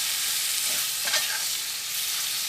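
Beef and tomato fry in hot oil in a Kerala-style beef fry, giving a steady close sizzle with a spoon scraping and stirring through it.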